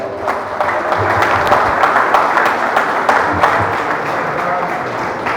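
A church congregation claps loudly together, dense rapid applause filling the space close and continuous from start to finish, with voices mixed faintly into the noise.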